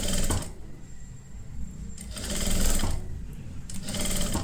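Sewing machine stitching a seam on an A-line kurti, three close bursts of rapid needle clatter separated by brief pauses, with no talk.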